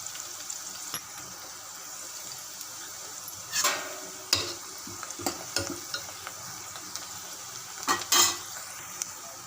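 Onions, green chillies and curry leaves frying in a pan, with a steady soft sizzle broken by several stirring scrapes and clinks at a close, moderate level.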